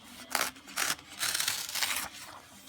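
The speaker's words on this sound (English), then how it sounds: "let's rip out the next one" Paper tears in several quick rips as a page is pulled out of a book being prepped for altering, soft and close with short pauses between strokes and no talking.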